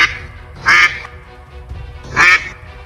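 A mother duck in a cartoon quacks loudly, two separate nasal calls about a second and a half apart, close and clear over quiet background.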